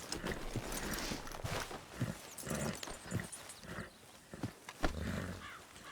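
A horse in the video game Red Dead Redemption 2 clops along with a muffled, irregular hoof rhythm over rustling outdoor ambience, moderately close and alone.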